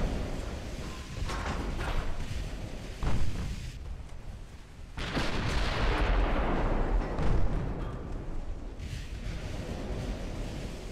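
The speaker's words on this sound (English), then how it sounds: "That's a nice hit on the light cruiser there." Heavy naval gunfire and shell impacts strike a light cruiser during a fleet battle in Ultimate Admiral: Dreadnoughts, with rumbling blasts recurring over a continuous roaring wash of wind and sea, and no voices.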